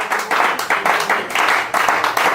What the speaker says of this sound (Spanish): Denle ese aplauso a Jesús